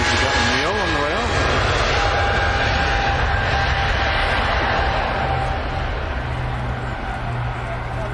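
A jet airliner at Manchester Airport roars loudly and steadily, a whining engine tone riding over a broad rumble throughout, while people chat nearby over it.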